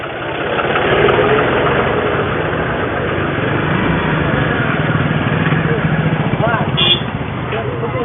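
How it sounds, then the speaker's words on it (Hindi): A tractor engine drones steadily at a constant pitch as it drives past in a rural village neighbourhood, loud and close throughout, with muffled background activity. "ट्रैक्टर जो चला के जा रहा है"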